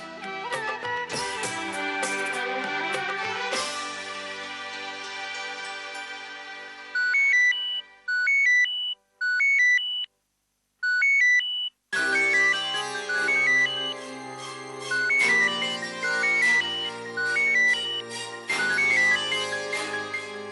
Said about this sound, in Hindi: शीतल का फोन है ना राघव?